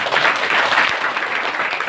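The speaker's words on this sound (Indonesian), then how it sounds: "Tepuk tangan." Dense audience applause at an Islamic boarding school end-of-year gathering with a kiai preaching, a brief steady burst of many hands clapping with no voices over it.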